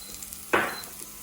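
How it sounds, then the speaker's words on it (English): Garlic, ginger and scallion hit hot oil in a pan with one sudden loud sizzle that quickly fades into a quieter crackle. "add the garlic and ginger, some scallion"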